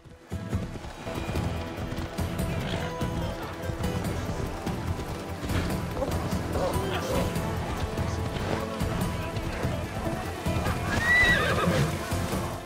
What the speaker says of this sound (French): Et mon cheval qui réapparaît.